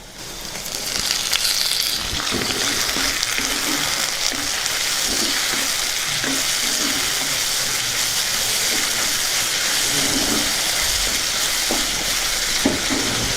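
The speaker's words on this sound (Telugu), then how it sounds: "మొత్తాన్ని ఒకసారి బాగా కలుపుకుందాం ఉల్లిపాయ ముక్కలు వేగాయి ఇప్పుడు టమాటా ముక్కలు వేసేసుకుందాం" Sliced onions and tomato pieces fry in hot oil for a sorrel and Bengal gram curry, producing a constant loud sizzle and hiss with occasional soft scrapes of stirring, close by and without speech.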